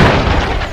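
Air strike explosion in the Israel-Hamas conflict, a brief loud broadband boom that roars and fades within a second.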